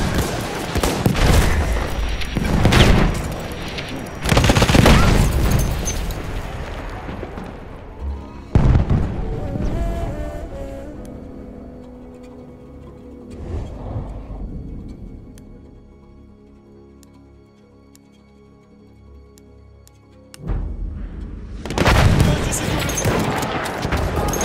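Grenade explosions and gunfire in the video game Battlefield 1: loud booming blasts and crackling volleys hit at the start and again near five, nine and twenty-one seconds, with a quieter stretch of distant fire in between.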